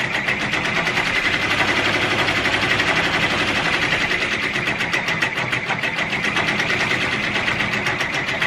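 An embroidery sewing machine stitches an ornament with a fast, steady mechanical rattle and hum, continuous and close, running alone without talk.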